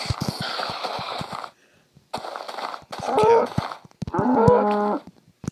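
A cow in a farming and survival video game moos several times in a row, loud and close, with short silent gaps between drawn-out, nasal calls.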